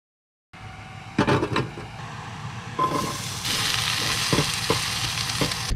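Food fries on an electric cook stove inside a van. Stirring clatters sound first, then a close, steady sizzle swells and holds with occasional scraping knocks.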